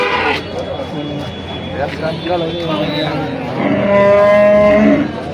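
A large cow at a weekly cattle market in Nashik moos loudly and drawn-out near the end, with people talking nearby and background chatter throughout.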